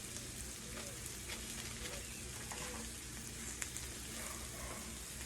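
Butter sizzles on a Blackstone griddle alongside mushrooms, a dense steady crackle and hiss that continues without a break and is fairly quiet throughout.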